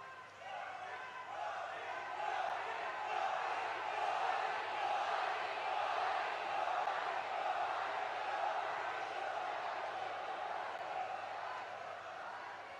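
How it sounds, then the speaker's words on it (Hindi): A large crowd at a public rally cheers, shouts and applauds together in a sustained, swelling roar that builds and then slowly tapers off, with no single voice standing out. "एक बार जोरदार तालियों के साथ माननीय हमारे यशस्वी प्रधानमंत्री जी का स्वागत"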